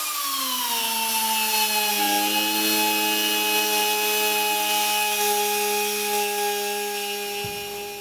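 A power tool spins up and notches an MDF subwoofer enclosure opening, producing a loud, steady high-pitched whine that rises and settles into a sustained tone, close and continuous throughout.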